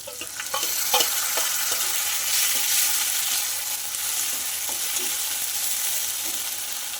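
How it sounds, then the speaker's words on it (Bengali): Ground cumin, ginger, garlic and chilli paste frying in a pan, a bright continuous sizzle with a few sharp utensil clicks and scrapes early on, close and steady with no voices. "এবার আমি মশলাটা দিয়ে দেবো"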